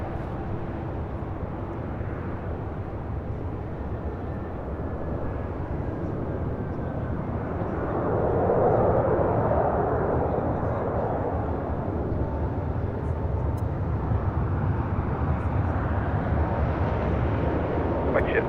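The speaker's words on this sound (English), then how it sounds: "we got the United Dreamliner now rolling down" United Boeing Dreamliner rolling down the runway for takeoff at LAX, a distant, steady jet rumble that swells gently about halfway through, with a voice talking intermittently over it.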